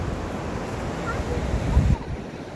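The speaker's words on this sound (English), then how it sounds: "I do hear the ocean." A low, steady rushing roar like ocean surf heard in a seashell, with a soft swell near the end and wind-like rumble, moderately loud.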